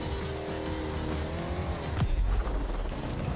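A racing car engine in The Crew 2 on PlayStation 4 drones loud and steady, its pitch sliding upward, then a sharp gear-change break, with tire noise rising under the continuing engine roar.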